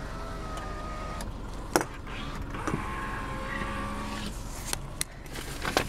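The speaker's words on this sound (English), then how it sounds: "Windows work." Car power windows running, a steady electric motor whine as the glass moves, with scattered clicks and thumps of the mechanism, fairly close and without talking.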